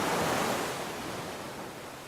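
Broadband ocean surf washes steadily, swelling at first and then easing slightly, with no voices.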